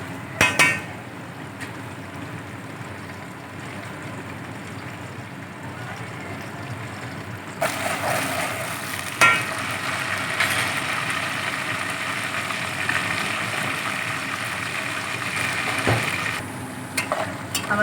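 Onions and potatoes frying in hot oil, a steady close sizzle that grows louder and brighter partway through as more goes into the pan, with occasional stirring clatter.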